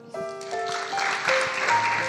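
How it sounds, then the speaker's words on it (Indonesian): Applause from a youth church service audience, broadband clapping that starts suddenly and carries on steadily over sustained music tones, fairly close and moderately loud. "tepuk tangan untuk David"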